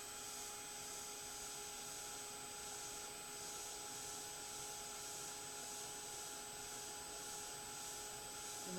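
A heat gun blows steadily while heating embossing material, making a constant airy whir with a faint fixed whine throughout and no change in level.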